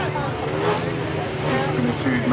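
Several 500cc sidecar outfits on a grasstrack rev hard and pull away together at the start of a B final race, a dense continuous engine roar with rising pitch, heard at moderate distance under an announcer's commentary.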